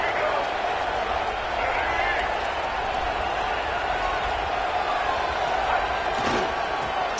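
Roaring stadium crowd in the NCAA 26 American football video game, a steady dense wall of cheering held for several seconds with faint broadcast commentary under it.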